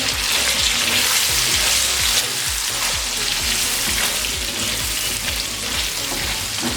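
Tomatoes sizzle loudly as they fry in a pan with onion-based masala for chicken jalfrezi, while a spoon stirs and scrapes through the mix in steady rhythmic strokes, close and continuous.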